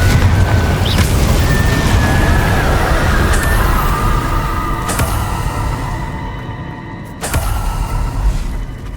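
Spell explosions from Bombarda and Confringo in the Hogwarts Legacy video game: a dense, continuous barrage of booming blasts and bursts, with sharp impacts around the second and seventh seconds over rumbling game effects.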